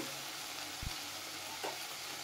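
Chicken and potatoes sizzle steadily in a pan of spices while being stirred, a continuous close frying hiss with a couple of brief knocks of the spoon against the pan.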